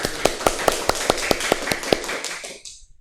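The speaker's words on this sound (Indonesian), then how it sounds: "Tepuk tangan buat kita semua." Children clapping together in a classroom, about eight sharp, evenly spaced claps in a steady rhythm that then trail off into a short burst of scattered applause.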